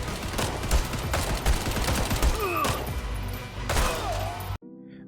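Rapid pistol gunfire from two guns fired akimbo in the VR game Hard Bullet, a dense stream of sharp, close shots with ringing impacts before an abrupt stop.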